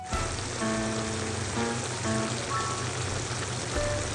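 Chicken bubbles and sizzles in a pot of soy sauce and vinegar, a steady close frying hiss with light crackle over a low background hum and some faint tonal sounds, no voices.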